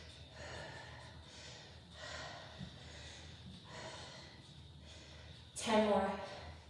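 Heavy, rhythmic breathing from someone partway through a demanding pyramid workout, with repeated close exhales and a sharp, louder gasp near the end.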